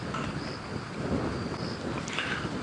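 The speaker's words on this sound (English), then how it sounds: "Oh, you can hear the wind gusting." Wind gusts at dawn on a safari drive through bush thickets, a steady broadband rush that swells slightly, with a faint rumble underneath and no voices.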